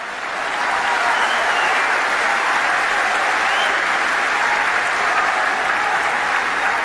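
Large audience applauding at an Islamic lecture event, a steady, dense wall of clapping that holds at full strength from start to finish with no talk over it.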